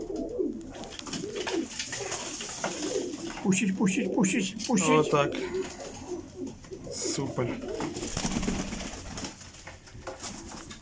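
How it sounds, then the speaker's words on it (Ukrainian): Pigeons coo in a breeder's loft, with soft repeated throaty coos and some wing flutters close by, while people talk quietly over them. "Ну, такие красивенькие голубки."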